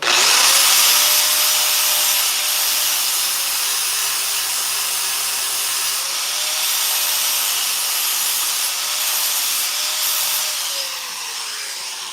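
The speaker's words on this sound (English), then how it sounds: "Take the grinder and just clean it up a little bit." Angle grinder cleaning slag off a weld on a metal bread frame: a loud, continuous high whine with gritty abrasive hiss, holding steady for over ten seconds before easing off at the end.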